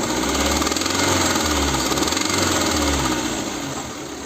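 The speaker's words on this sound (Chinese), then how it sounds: "里面就有哒哒的异响。" A Wuling car engine revved to about 2,000 to 3,000 rpm gives off a rapid, abnormal ticking from a faulty valve in the intake manifold, a close, steady rattle layered over the engine's drone.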